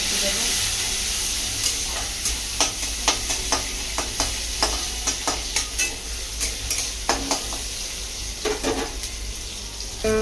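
Tomatoes for dal fry sizzle steadily in a hot pan, with a spatula stirring and scraping in repeated sharp clicks close by.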